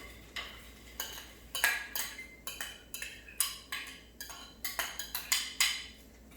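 Utensils clink and scrape against a pot about a dozen times at an uneven pace as chilled vegetables go into a Japanese curry and get stirred in; quiet close sounds with no talk.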